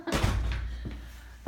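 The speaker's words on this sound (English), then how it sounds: "It's a little chilly, so we're gonna close the door." A house door in Santa Fe, New Mexico swings shut with a solid thunk near the start, followed by a softer knock and another thud at the end, all close by.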